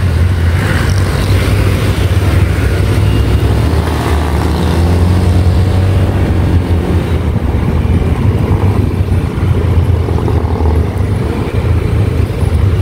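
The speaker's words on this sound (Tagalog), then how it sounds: "Oh, traffic na." Steady road traffic heard from inside a vehicle moving through Calamba City, a continuous low rumble of engines and tires with faint passing noise, loud and close throughout with no talking.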